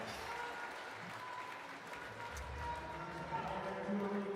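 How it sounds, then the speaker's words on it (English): A crowd goes wild at a European Cup bouldering competition in Loverval, Belgium, with steady applause and cheering that holds at a faint, distant level while voices talk underneath. "Now the crowd is going wild."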